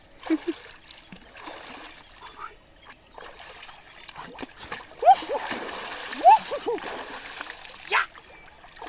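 Someone splashes and sloshes in icy water outdoors, with scattered light splashes and trickles at close range, while people talk faintly in between.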